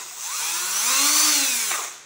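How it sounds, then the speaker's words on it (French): A repaired cordless drill runs for about two seconds, a close, loud steady whine that rises in pitch as the motor spins up and then eases slightly at the end. "j'appuie dessus et on voit bien que maintenant"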